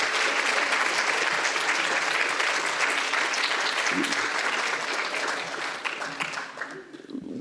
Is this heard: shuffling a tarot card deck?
no